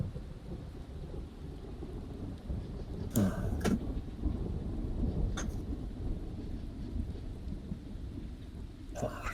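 Steady rain falling through a thunderstorm, with a constant hiss and low rumble, broken by a few sharp thunder cracks that come and go, fairly distant and soft overall.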